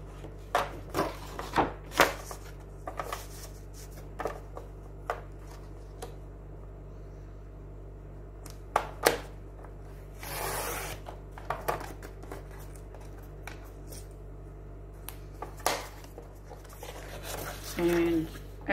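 Notebook paper is cut with scissors in a series of short, sharp snips and crisp paper rustles, spaced irregularly against a quiet background hum.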